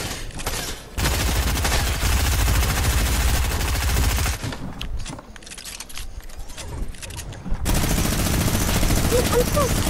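Bursts of rapid gunfire from a Fortnite duos match, loud and dense through much of the clip with a quieter gap near the middle, over game effects.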